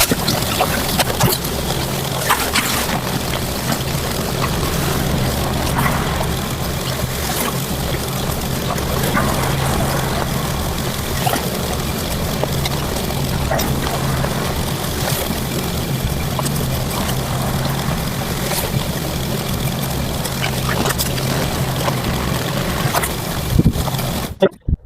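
A pressure washer surface cleaner works across a driveway at high speed, giving a loud, unbroken rush of spraying, hissing water that runs steadily for the whole stretch.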